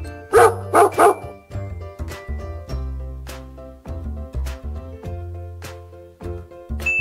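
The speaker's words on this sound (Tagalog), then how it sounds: "Aso" A dog barks twice in quick succession at the start, over a steady backdrop of tonal music with plucked and chiming notes.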